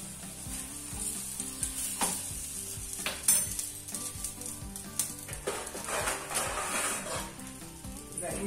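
Khichdi paratha fries on a hot oiled tawa, a steady close sizzle with scraping and stirring clicks of a spatula, mild kitchen clatter running throughout.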